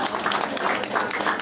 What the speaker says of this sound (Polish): Pytomy pięknie i wielkie brawa.